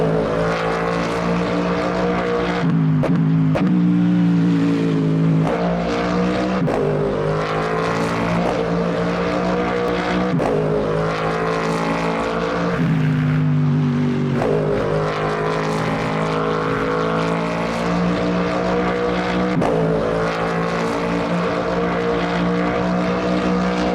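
A GT3 race car in the Le Mans Ultimate racing game, heard from outside the car: a steady, loud engine drone with rising and falling pitch as it shifts through gears, continuous with no talking.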